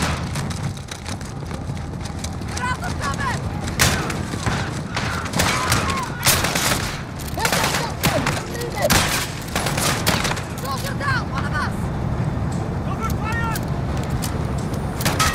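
Gunfire in Call of Duty: Modern Warfare, with rapid bursts and single shots, heavy thuds and booms in a loud, chaotic battle, mixed with shouted voices.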